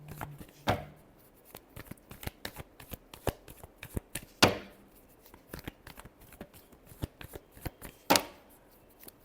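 Tarot cards are shuffled close up, with soft, irregular riffles and taps punctuated by a few sharper snaps. No one speaks.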